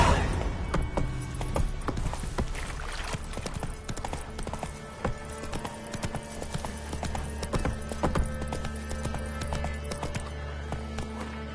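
Hooves of Roach, Geralt's horse in The Witcher 3, clip-clop in a steady brisk rhythm, loud and close, with game music and ambience beneath and a brief whinny.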